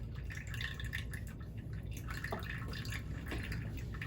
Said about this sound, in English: Hope you can see the water dripping out.